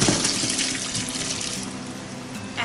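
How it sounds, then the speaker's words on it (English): Hot water being strained off blanched cauliflower, a continuous loud rushing pour into a sink with a splashy burst near the end. "And then strain the water completely"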